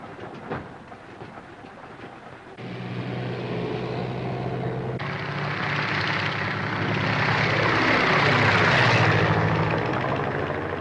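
A 1930s propeller airplane engine drones steadily, growing louder and fuller as it approaches, with a broad roar and a low propeller hum.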